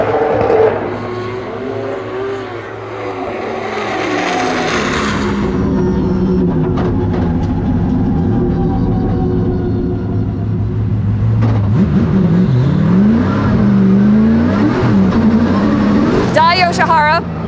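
A Formula Drift car runs out on the track during a skills battle, its engine a loud continuous roar with rising and falling revs throughout, while people talk over it.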